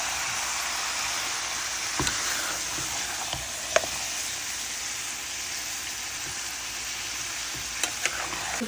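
Mutton and potato pieces with spices sizzle steadily in a pan while being stirred. The constant frying hiss is broken by a few sharp scrapes and clicks of the spoon.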